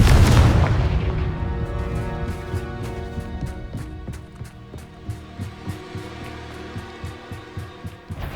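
Spell explosion from the Confringo fire spell in the Hogwarts Legacy video game: a loud booming blast at the start, followed by a rapid train of repeated impacts and crackles that fade steadily over several seconds.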